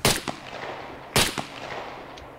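Gunfire in the video game SCUM: two sharp, loud shots about a second apart, each followed by a fainter echoing crack, with no talk.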